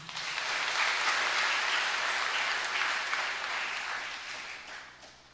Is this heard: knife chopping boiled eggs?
no